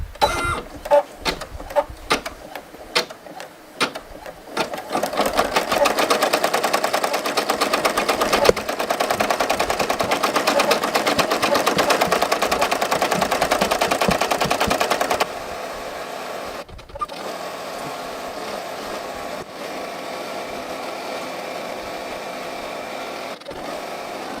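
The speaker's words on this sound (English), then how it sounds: "We can actually close the machine there and begin." A Brother PE 770 embroidery machine stitching a patch: a few clicks, then a loud, fast, steady mechanical chatter of stitching that drops to a quieter hum partway through, with no talk.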